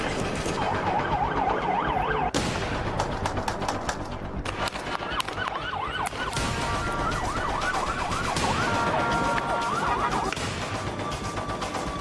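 Ambulance siren wailing in repeated rising-and-falling cycles amid a tense street clash with tear gas, moderately loud over a dense, noisy crowd background with sharp bangs.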